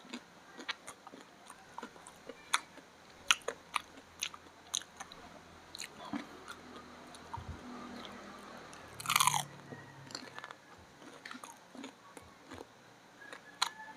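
Crunchy turon, a fried banana spring roll, is bitten and chewed close up, with a long run of sharp crisp crunches at an irregular pace and one louder biting burst near the middle.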